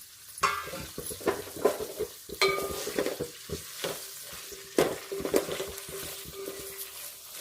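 Garlic cloves frying in a pan of amla chutney, with a steady sizzle broken by repeated scrapes and clatters of a spoon stirring against the pan.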